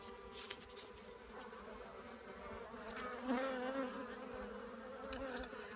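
Honeybees drone steadily around an opened hive during an early-season inspection, a dense, continuous buzz close by with a slight swell in the middle and no voices.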